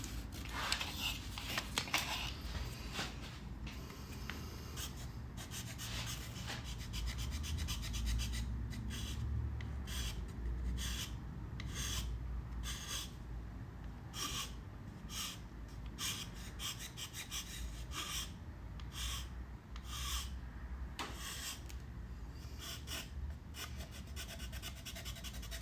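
Soft, continuous sanding and rubbing while a part is press-fitted during a live build, a steady close rasp with quick scratchy strokes repeating through the second half.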